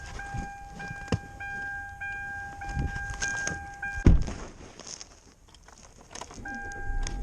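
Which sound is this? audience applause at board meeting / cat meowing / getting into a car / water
getting into a car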